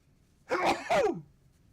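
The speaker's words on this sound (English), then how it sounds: "Oh, I feel a sneeze coming on." A single sneeze, a quick two-part burst with a sharp intake and an explosive release, close and fairly loud with silence on either side.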